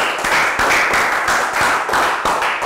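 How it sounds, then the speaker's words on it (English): A primary school class clapping together in a health education lesson, brisk rhythmic claps in a fairly even beat, close and loud, with no talk over them. "round of applause for Chu"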